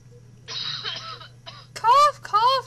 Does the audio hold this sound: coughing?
yes